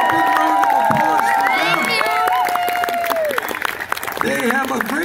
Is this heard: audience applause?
yes